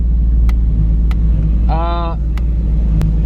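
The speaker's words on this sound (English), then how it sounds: "I'm in Tony's car right now. I'm just letting it warm up real quick here." A tuned 700whp Toyota Supra idles low and steady while warming up, a constant deep rumble heard from inside the car, with a person talking over it and a few faint clicks.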